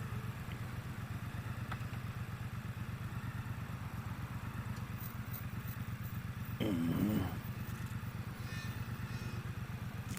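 A Triumph Bobber motorcycle engine rumbles steadily while riding, a low pulsing drone with brief clatter and a short louder burst partway through, no talk.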